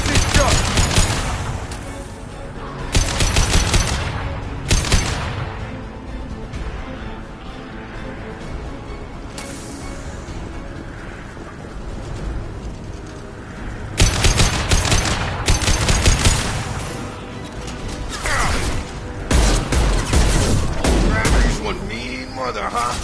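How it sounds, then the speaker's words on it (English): Concussive shot ability fired in Mass Effect 2 Legendary Edition, heard as loud bursts of weapon blasts and impacts in clustered volleys amid a chaotic combat mix, with game voices under the action. "Firing concussive shot."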